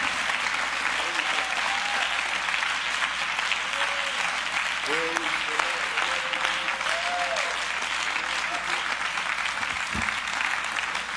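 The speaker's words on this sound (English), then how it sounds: "Would you clap your hands to the Lord one more time?" A church congregation claps their hands in a sustained, dense round of applause, with voices and scattered cheers rising over the clapping throughout.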